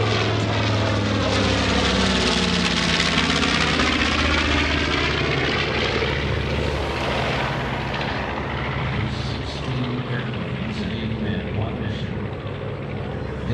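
A North American B-25 Mitchell bomber roars past at the New York International Air Show, its piston engines and propellers droning loud and continuous, sweeping through a drawn-out pass while an announcer talks over it.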